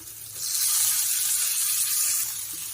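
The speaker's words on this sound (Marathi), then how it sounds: "आता हे सगळं असं फ्राय करून घेते" Steady hiss of frying in hot oil in a pan, loud and continuous for nearly three seconds, rising after a soft start and easing slightly at the end, with no talk over it.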